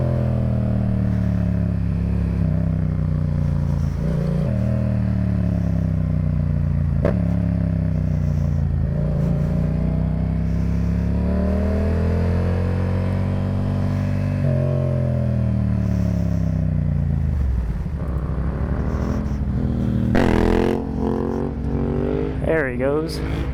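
A motorcycle revs and accelerates repeatedly while doing wheelies with the clutch slipping, engine pitch rising and falling in long sweeps, close and loud, with people talking over it.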